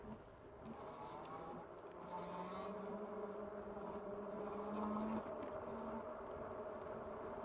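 A Radmini mini bike engine being throttled, a faint buzzing motor whose pitch climbs and holds as the throttle opens, then eases back, heard from fairly close in a quiet setting.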